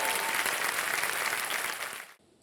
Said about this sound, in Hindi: तालियां बज जाए इनके लिए एक बार फिर।